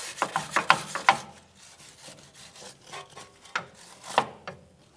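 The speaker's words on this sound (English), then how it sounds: "So we'll just grab a quick wire brush and do that now." Wire brush scrubbing debris from the sway bar bushing area of a 2007-2013 Acura MDX, a series of short, close rasping strokes in uneven bursts separated by brief pauses.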